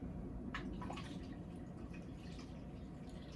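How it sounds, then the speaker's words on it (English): Warm tea poured through a funnel still coated with honey while making elderberry mead, giving a soft, steady liquid trickle with a few faint drips, fairly quiet and continuous throughout with no voices. "I'm going to pour in our tea."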